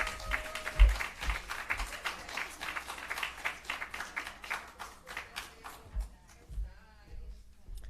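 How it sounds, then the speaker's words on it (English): Applause for the host at a civil service public forum, a moderate burst of many hands clapping that holds for several seconds, then thins into a few scattered claps and fades as a voice resumes. "Clap her, no man."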